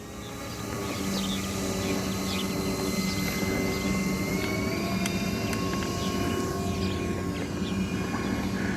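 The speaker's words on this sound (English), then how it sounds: "So this is going to be a safe takeoff. Full back elevator, gradual application of power." A twin-engine Avios Albatross 1.6 m RC seaplane takes off from water, its electric motors building to a steady, continuous buzzing whine at moderate distance with outdoor ambience throughout.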